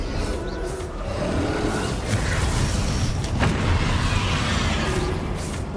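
The Confringo blasting spell in the wizarding game Hogwarts Legacy lands with a rumbling explosion, a loud, sustained crackling boom that fills the whole stretch with dense noise.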